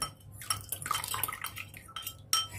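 A spoon stirring water into eggs in a bowl, quick clinking and scraping strokes against the side, close by, in short irregular bursts.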